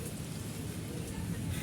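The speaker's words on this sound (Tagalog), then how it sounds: "lumakas na talaga yung ulan." Heavy rain pours down steadily and evenly, a dense continuous hiss close by with no pauses, and no voices over it.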